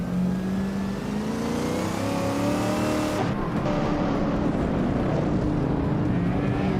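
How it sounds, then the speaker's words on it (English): A 2015 Porsche 911 GT3 and a Ferrari race past in a sim-racing game, engines droning loudly and continuously with rising and falling revs and layered whines from several cars. "Bao by Biolab is leading in a 2015 Porsche 911 GT3. They seem to be holding a solid pace, but the Ferrari right behind might be waiting for a mistake"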